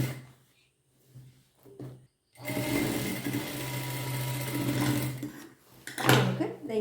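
A sewing machine stitches fabric in one continuous whirring run after a brief quiet start with some scattered sounds, then slows to a stop and is followed by a short burst of handling noise near the end.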